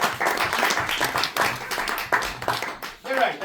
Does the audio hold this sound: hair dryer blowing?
no